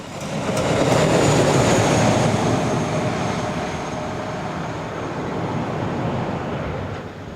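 An ÖBB class 1142 electric locomotive in original condition pulls a train north out of Selzthal, a loud steady rumble and rail roar that swells early and then holds, with no talk.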